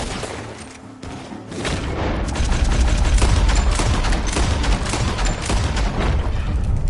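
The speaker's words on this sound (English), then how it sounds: "The gunshots are coming from that barn." Gunfire from a barn in the video game Red Dead Redemption 2 on PS4 Pro, a loud, dense fusillade of overlapping shots and booms that builds after a brief lull and keeps going.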